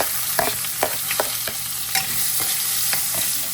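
Garlic and turmeric fry in hot oil with a steady close sizzle, broken by several short scraping stirs of a spoon in the pan.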